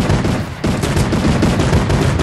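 Rapid gunfire in Fortnite, dense and loud, with repeated shots in fast bursts and a short gap before the firing resumes.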